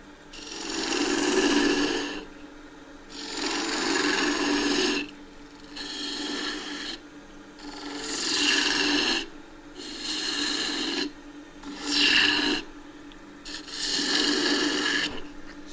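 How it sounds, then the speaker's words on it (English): A turning tool slices timber spinning on a wood lathe, producing a series of rasping, scraping cuts, each lasting one to two seconds, separated by brief pauses, close and moderately loud. "hold the edge at the right angle so it gets sliced, so the timber gets sliced as it comes past the edge"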